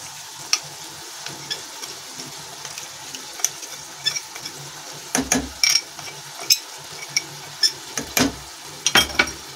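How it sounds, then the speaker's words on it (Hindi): A spoon stirring a thick lauki (bottle gourd) barfi mixture with milk powder in a pan, making soft scraping and bubbling sizzle broken by sharp clicks and clacks of the spoon against the pan. "ये मैं चम्मच से थोड़ा सा मिक्स कर लूंगी"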